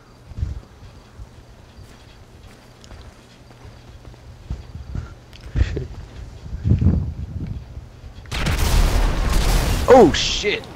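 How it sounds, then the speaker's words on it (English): A Granger SUV explodes in GTA 5: after several seconds of quiet footsteps and faint thuds, a sudden loud, dense blast erupts near the end and roars on until the clip stops. "Found the Granger and it exploded as I walked away."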